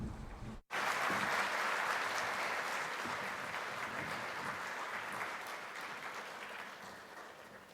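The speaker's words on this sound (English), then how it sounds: "Please join me in giving them a big round of applause" Sustained applause from a large audience at a nuclear supply chain symposium, steady and full after a brief pause at the start, slowly tapering toward the end.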